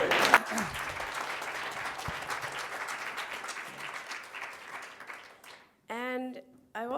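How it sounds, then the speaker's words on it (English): An audience at a university diversity dialogue event claps for a guest, a dense burst of applause that tapers off over several seconds before a voice starts talking. "Let's give him a clap here."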